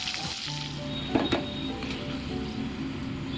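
Potato pieces fry in hot mustard oil in a wok, giving a steady, dense sizzle with a couple of brief louder crackles near the middle.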